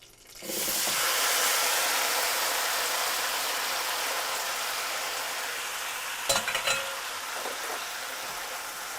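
Apples fry in butter and brown sugar in a skillet, a loud, steady sizzle that starts abruptly and holds throughout, with a short burst of clattering stirring near the end.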